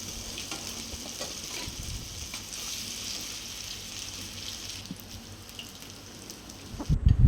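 Taro root stir-fries in a pan with a soft, steady sizzle and light scraping stirs, ending in a louder clatter of the pan close by.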